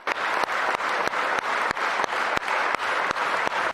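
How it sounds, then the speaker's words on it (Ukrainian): Sustained, loud ovation from lawmakers in a parliament session hall welcoming military brigade commanders, dense clapping that fills the room and rises in repeated waves, with no talk over it. "командувач об'єднаних сил ЗСУ Юрій Содоль разом з комбригами військових нардепи вітали оваціями."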